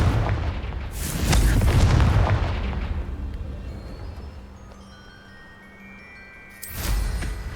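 A Confringo fire spell exploding in Hogwarts Legacy, a loud booming blast with a rumbling tail that fades over several seconds, followed by a second sharp explosive burst near the end.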